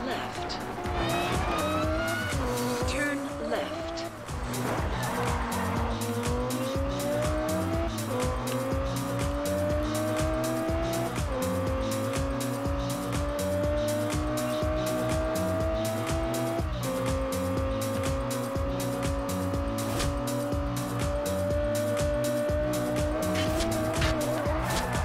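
A race car engine in Forza Horizon 2 revs hard through repeated upshifts, its pitch climbing and dropping with each gear change, loud and steady for the whole stretch alongside game music, with someone talking over it.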